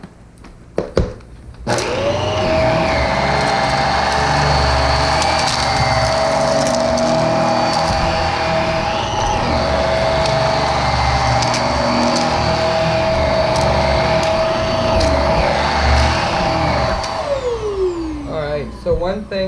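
A Eureka FloorRover or Hoover PowerDrive Pet vacuum cleaner runs steadily and loudly up close, its motor whine holding level while sugar, rice and popcorn debris are picked up, then spinning down at the end.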